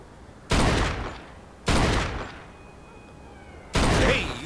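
Three loud, close gunshots fired at an old wrecked car, aimed at its tires, each a sharp crack with a decaying echo, spaced about a second or two apart.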